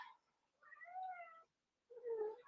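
A pet cat meows insistently at close range, two drawn-out, wavering calls separated by a short silence, with no talk over them.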